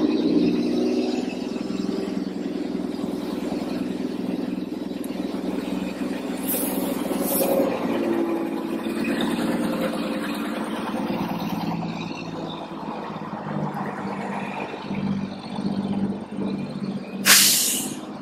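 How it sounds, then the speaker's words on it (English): A garbage truck idles and passes outside with a low continuous engine rumble, broken by sharp hissing air-brake bursts, two close together early on and a louder one near the end. "here comes the garbage truck."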